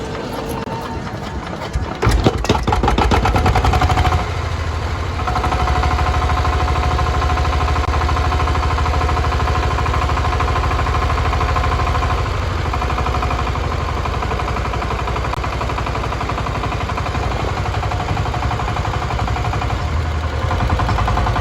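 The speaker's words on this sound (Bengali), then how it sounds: "চলুন আপনাদেরকে ইঞ্জিনটা স্টার্ট দিয়ে ইঞ্জিনের সাউন্ড কোয়ালিটিটা শোনাই" A heavy 12 to 20 HP diesel engine cranks with a brief rattling burst, then settles into a loud, steady, throbbing idle that continues unchanged.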